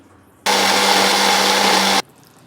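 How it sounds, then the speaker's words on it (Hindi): An electric kitchen grinder whirs loudly as it grinds cooled onions, one steady high-pitched burst of about a second and a half that starts and stops abruptly against quiet surroundings. "अब मैं इनको ग्राइंडर में डाल के ग्राइंड करके रख लेती हूँ"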